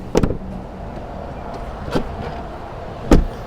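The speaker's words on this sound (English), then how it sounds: "to close the door, it's normal, but it definitely doesn't sound as nice as the Model 3" Door of a Tesla Model S Plaid being shut, a single muted thud near the end after a couple of softer knocks and handling clicks earlier, close by with no talk.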